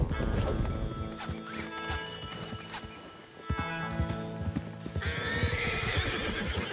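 Several horses clatter along at speed, hooves pounding, with loud neighing and whinnying over a full background of Red Dead Redemption 2 game music and ambience.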